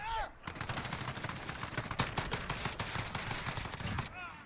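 Rapid assault rifle fire in Call of Duty Warzone on the Shipment map, dense automatic bursts that run almost continuously for several seconds, loud and close, with brief gaps at the start and end.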